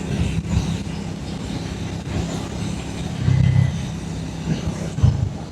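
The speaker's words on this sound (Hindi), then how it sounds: "जैसे मैं 5th गियर पे भी इसको क्रूज़ कर रहा हूँ और 4000 आरपीएम पे है ये" A Triumph T4 motorcycle engine cruising in fifth gear at about 4000 rpm on the open road, a steady droning rumble mixed with wind rush, close and fairly loud, with small surges in level.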